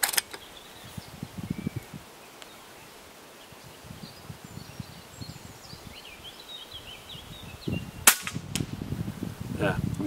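An EDgun Matador R5 air rifle fires outdoors, with one sharp crack standing out near the end over a background of wind, rustling and faint birdsong.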